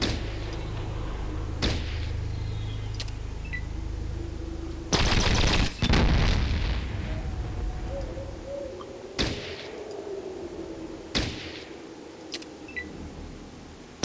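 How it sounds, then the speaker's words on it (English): Turret gunfire in the Fallout Tactics video game: a few sharp, loud reports spaced out over a steady game background hum, with a dense burst in the middle, no talking. "Let me save the game here and shoot this turret."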